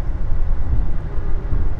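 Inside a Lodaya economy new-generation passenger train, the cabin hums with a smooth, steady low rumble of wheels on quiet, even rails near Yogyakarta and Solo, loud and continuous with no clatter or voices.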